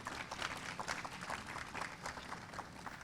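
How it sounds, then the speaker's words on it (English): A crowd claps and applauds steadily in a thick, continuous wash at an outdoor ribbon cutting for the Annapolis Taxi Driver Mural, held in a parking lot. "I want to give them a big round of applause"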